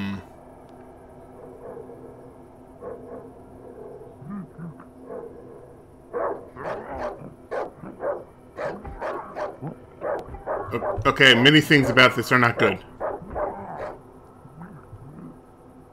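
Dog barking in the Darkwood survival horror game: a run of repeated barks and yips builds from moderate to loud and peaks in a harsh flurry near the end, while someone talks over the start.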